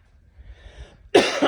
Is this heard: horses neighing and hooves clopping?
no